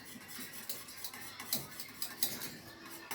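A metal spoon clinks and scrapes inside a small container, stirring starch into a little water in quick, irregular taps, fairly quiet and with no voices.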